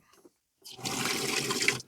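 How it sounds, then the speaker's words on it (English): Water gushing from an external tap plumbed into the old toilet flush system of a Fuso Canter 4x4 truck camper, a close, steady rush that starts abruptly after a moment of near silence and runs on alone. "I've just added an external tap"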